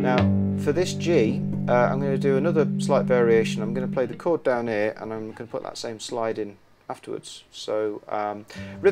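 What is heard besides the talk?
No distinct noise like a dog, phone or traffic.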